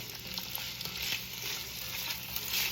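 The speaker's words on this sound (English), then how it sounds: "I have the vegetables in the oil" Vegetables, including evenly cut potatoes, fry in oil for a vegetable soup, giving a constant close sizzle with faint stirring scrapes and no talk.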